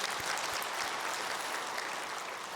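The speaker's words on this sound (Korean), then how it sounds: "하나님께 영광의 박수 올려드립니다." A church congregation applauding, a dense, even wash of clapping from many hands that holds steady for a couple of seconds.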